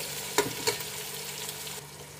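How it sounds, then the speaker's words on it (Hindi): Tomatoes and green chillies fry in oil for a masala, a steady hissing sizzle with two sharp spoon knocks against the pan early on. "और अब हम इनको फ्राई करके इनका मसाला बना देंगे"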